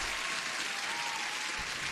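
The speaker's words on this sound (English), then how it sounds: "That deserves an applause." Brief burst of applause rises from a crowd, a continuous even hiss of many hands clapping, steady and somewhat soft, heard alone.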